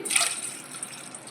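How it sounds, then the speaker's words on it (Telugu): Water pours briefly into a pot of tomato rasam with a bright splashing rush, then settles into a softer trickle, close by with no talking. "ఇప్పుడు ఈ పులుసులోకి రెండు గ్లాసుల వాటర్ని అయితే యాడ్ చేసుకోవాలండి"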